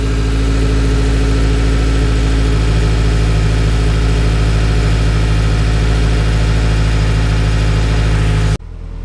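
A car engine idles loudly and steadily up close, with oil burning off the hot engine after an oil filter sandwich adapter install, a deep continuous rumble that cuts off abruptly near the end.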